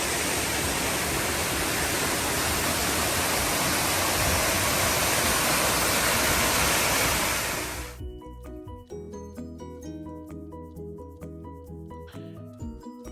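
The waterfall at Thekke Malampuzha roars as a loud, steady, unbroken rush of falling water for about eight seconds before cutting abruptly to music.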